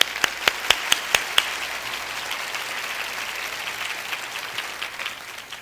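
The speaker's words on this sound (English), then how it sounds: "Give them a round of applause." A church audience applauds, opening with a few sharp, evenly spaced claps from close by before settling into a steady, softer wash of clapping.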